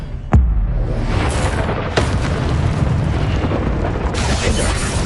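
A spell cast in Hogwarts Legacy on PS4 lands with a sharp, loud boom, then a rumbling magical crackle that carries on. A second burst follows after a couple of seconds, and a brighter hissing surge rises near the end.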